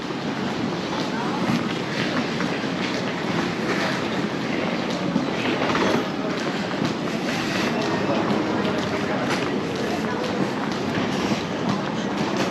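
A passenger train rolls along the rails with a steady broadband rumble and faint rhythmic clatter, heard from inside, with people talking softly underneath.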